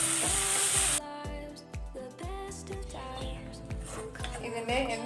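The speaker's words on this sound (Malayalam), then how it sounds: "ടൊമാറ്റോയുടെയും കാഷ്നട്ടിൻ്റെയും പേസ്റ്റ് ഞാൻ അരച്ചെടുത്തിട്ടുണ്ട്, അതിലേക്ക് ചേർത്തൊന്ന് വഴറ്റാം" A tomato and cashew paste for a paneer egg roll masala is sautéed in a pan, giving a loud sizzle that drops to a softer fizz. Music with a rhythmic beat plays over it throughout.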